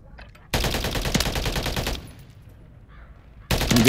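Holger 556 assault rifle in a video game firing in two long, rapid automatic bursts, close and loud, separated by a brief quieter gap.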